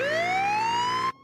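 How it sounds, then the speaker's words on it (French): A cartoon ambulance siren from a French SpongeBob soundtrack: a single loud electronic wail sweeps upward in pitch, holds briefly, then cuts off abruptly into near silence. "Écoutez, une ambulance."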